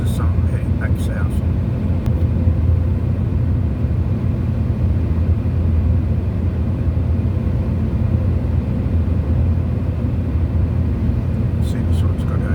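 Australian Army trucks rumble past at a steady, continuous drone, a heavy low engine and tyre roar holding even throughout, with a voice speaking faintly over the traffic noise.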